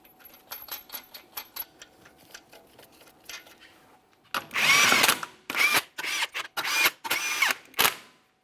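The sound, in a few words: torquing car wheel lug nuts to 80 foot-pounds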